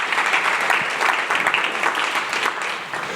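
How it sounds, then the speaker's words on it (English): Audience at an ecommerce agency summit keynote in Austin applauding the staff, dense sustained clapping from a crowd filling the room, steady and loud without speech. "Louis did a great job with a round of applause for the staff and everything"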